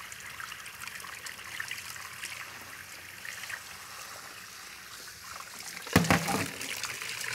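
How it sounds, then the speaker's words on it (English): Cold tap water runs steadily into a pan of cooling eggs, a soft continuous trickle and splash heard close up, with a louder burst of splashing near the end. "I'm going to run the cold water and run it into the pan and let it cool off"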